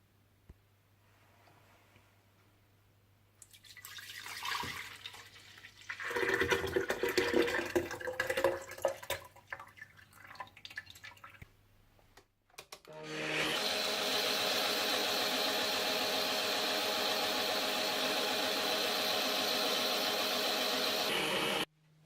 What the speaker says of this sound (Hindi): दूध के साथ ही ग्राइंडर में डालकर ग्राइंड कर लीजिएगा